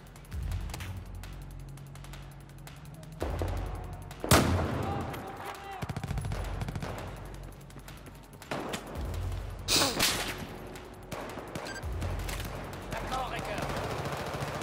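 Gunfire in the video game Battlefield 4, with a few loud isolated shots and mechanical weapon clicks over a low rumbling backdrop. Talking is heard at times.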